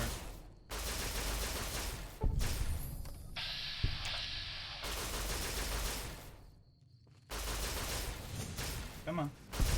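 Gunfire in the video game Fallout: New Vegas comes in several sustained bursts of rapid shots, loud and dense, separated by brief pauses and a quieter stretch in between.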